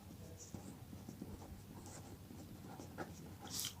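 Possible factors written on a board, a faint continuous scratching and tapping of the writing tool against the surface, heard at low level alone with no talk.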